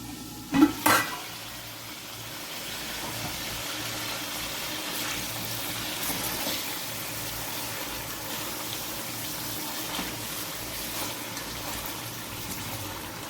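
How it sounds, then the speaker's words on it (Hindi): Salted Peshawari mutton cooks in a pot over a low flame, giving a soft steady simmer and faint sizzle throughout, opened by a couple of brief knocks of a utensil against the pot near the start; no speech. "ये हल्की आंच पे इसमें से खुद ही गोश्त में से पानी निकलता जाना है और इसने पकते जाना है"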